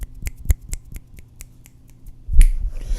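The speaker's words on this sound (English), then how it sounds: "Snap." Crisp finger snaps ring out alone in a quiet room, about ten sharp, evenly spaced clicks over two seconds, followed by a louder rustling burst near the end.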